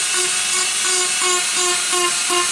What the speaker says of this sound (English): I'm going to use my Dremel just to take off.